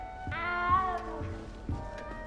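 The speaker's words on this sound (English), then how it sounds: "You don't need to be frightened, little cat." A small cat meows several times in the video game Hogwarts Legacy, drawn-out and plaintive calls heard close and clear over a steady low background hum, with no talking.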